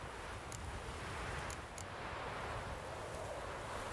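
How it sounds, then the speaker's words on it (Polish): Steady wind blows in a continuous broadband rush in The Witcher 3 video game, with a few faint clicks over it and no voices. "Dobry wiatr wieje"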